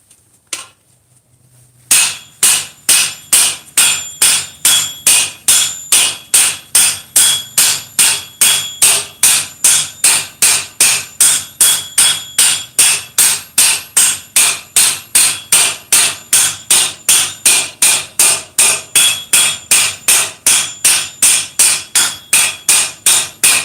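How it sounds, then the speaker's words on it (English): A hammer strikes a metal bowl held flat against a stake over and over in a steady, fast rhythm, each blow ringing sharply and loudly up close, continuing without pause. "the part that I'm hitting with the hammer is actually flat against the stake here"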